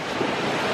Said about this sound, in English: Right now we're at the hot water beach